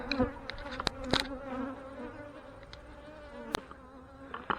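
Honey bees buzz steadily around an open hive during a colony inspection, a continuous droning hum with individual bees zipping close past now and then.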